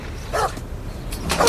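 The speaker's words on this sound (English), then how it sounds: "Bad doggy, let go of the boot, doggy, let go." A dog gives two sharp, close barks spaced about a second apart, loud and alone.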